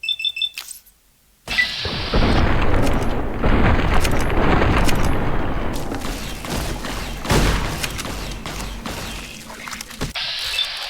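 A gunshot to an enemy's torso in the Fallout video game: a loud, close blast followed by a long rumbling, crackling roar that slowly fades over several seconds.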